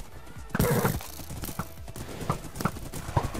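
A horse gallops in a video game, a steady clip-clop of hooves with a brief whinny near the start, moderately loud over a low background.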